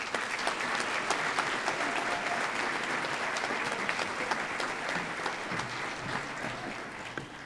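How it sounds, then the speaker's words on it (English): Sustained applause from a crowd at a philanthropy awards event, steady dense clapping at an even level throughout. "Let's give them another round of applause."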